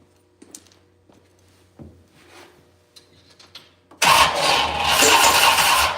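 A 1968 Chevrolet C10 truck with a 6.0 engine stays quiet through a few faint clicks and knocks, then suddenly fires and catches, settling into a loud, steady, rough running roar.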